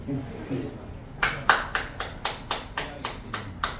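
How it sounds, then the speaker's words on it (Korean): Rhythmic group clapping at a Korean graduation ceremony event, about ten sharp, evenly spaced claps after a quieter first second with faint voices. "박수 한번 쳐주세요."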